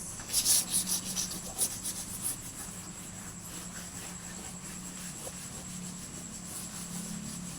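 A whiteboard eraser rubs across the board in a few quick, scratchy strokes at the start, then fades to a steady low background hum in a classroom.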